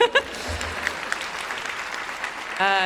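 A commencement audience breaks into brief, steady applause, a moderate even clatter of many hands lasting a few seconds before a voice resumes at the end.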